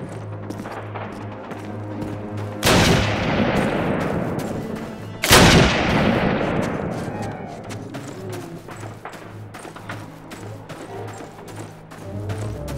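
Two heavy gunshot blasts ring out in Call of Duty Classic, each a loud sharp crack followed by a long decaying rumble, separated by a few seconds over steady background battle noise and faint distant firing.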